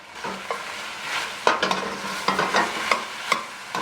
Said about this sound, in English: And we want that to sort of fry down or toast in the oil and everything here. I'm just going to stir it up.